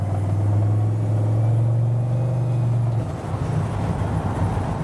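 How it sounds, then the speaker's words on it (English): A 1951 Chevrolet five-window pickup truck's engine pulls and accelerates at close range, a steady low droning rumble that holds evenly before shifting to a rougher, more broken tone near the end. "Now I'll step on it again so you get a chance to see it go again"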